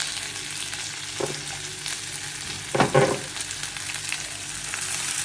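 Butter crackles in a pan with mustard seeds, cumin and curry leaves, a steady close sizzle with a sharper burst of spatter and stirring near the middle.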